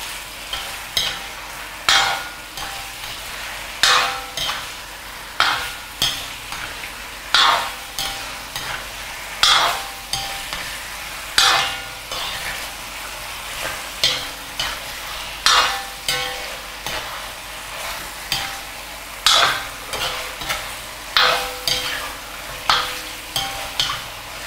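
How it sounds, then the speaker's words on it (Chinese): Chicken is stir-fried nonstop in a hot oiled wok for chicken stewed with mushrooms. A loud, steady sizzle runs throughout, broken by regular scraping spatula strokes about every second or two, and no one speaks. "那我们要做的呢，就是把这个鸡不停的炒"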